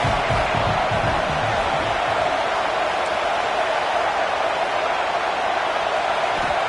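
Dense, steady roar of a large stadium crowd at a college football game between the Gators and LSU, a loud wall of cheering and noise sustained throughout with no clear breaks.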